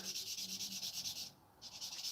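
Steady back-and-forth sanding on a MiG-15 model aircraft kit part, rhythmic strokes with a short pause midway, close and clear with no talk.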